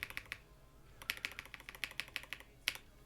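Quick bursts of keystrokes on a computer keyboard as a terminal command goes in on Linux Mint, light close clicks in uneven clusters with short pauses between them and no voices.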